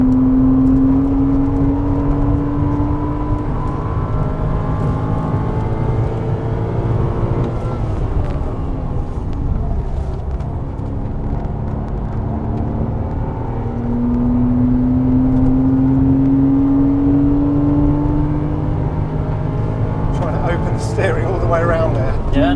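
Porsche Cayman 987 2.7, Lotus Exige 410 Sport and Honda Civic Type R FK2 racing on track, heard as a loud, steady engine drone from inside a car, with rising and falling pitch as gears change, and people talking over it.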